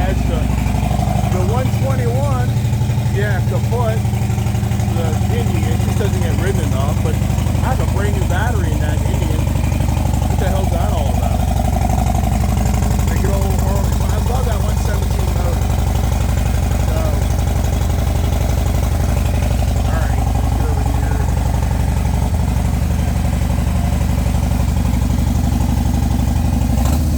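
Indian motorcycle with a 121 engine idling nearby, a steady low rumble throughout while people talk over it.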